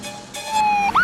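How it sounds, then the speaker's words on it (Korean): Ambulance siren from a 1983 film, a wailing tone that sweeps up and down over a steady background hum, growing louder toward the end. "한편 존이 실려가던 앰뷸런스."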